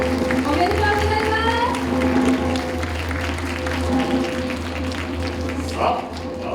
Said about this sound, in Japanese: どうぞ皆様、特別賞を受賞された皆さんに今一度大きな拍手をお送りください